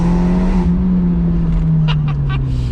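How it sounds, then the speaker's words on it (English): An Abarth 124 Spider with a Monza exhaust drones loudly and steadily at high revs from inside the car on a slippery road, with a few short clicks near the end. "Monza exhaust on this Abarth 124 Spider, it just screams, doesn't it?"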